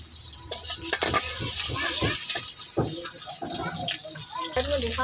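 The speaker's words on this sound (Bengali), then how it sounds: "পেঁয়াজটি ভাজা হয়েছে" Onions sizzle and crackle in a hot pan, with scraping stirs and a few clinks of a utensil; a voice murmurs briefly.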